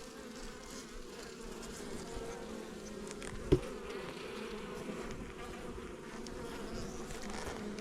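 Honeybees buzzing at an apiary hive, a continuous close droning hum of many insects with a single brief knock midway, no voices.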